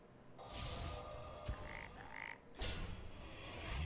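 A frog croaks in the card game Hearthstone, a short game sound effect heard amid a busy layer of other game effects and music, with no talking over it.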